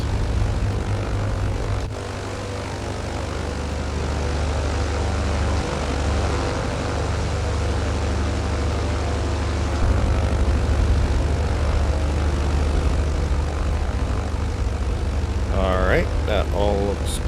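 A propeller airplane engine drones loudly and continuously during a landing approach to a very short runway by a beach, a steady close-up cockpit hum with a brief voice near the end.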